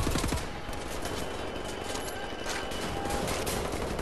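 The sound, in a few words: gunfire in Wolfenstein: The New Order video game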